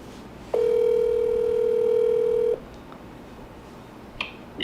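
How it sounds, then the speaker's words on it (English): Telephone dialing tones for a call-in guest on a talk show: a single steady, loud tone holds for about two seconds, then cuts off, followed by a few faint clicks and a short beep near the end. "let's get our guest here on the phone, Stephen Bissett"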